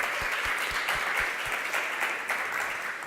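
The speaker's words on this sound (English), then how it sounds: "Let's give Janice a big round of applause" Audience applause for Janice Chaka at a 7in7 event, a steady wash of many hands clapping throughout, loud and close, with no speech over it.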